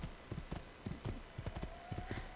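A horse gallops in Assassin's Creed 2, its hooves drumming in a steady repeated rhythm of paired beats, fairly close and unaccompanied by talk.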